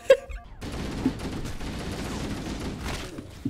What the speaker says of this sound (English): Dear god, they're shooting me from all angles.